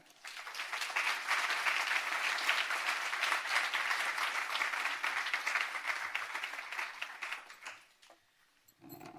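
A literary event audience applauds warmly for the host, steady dense clapping that holds for several seconds, then thins and dies away near the end.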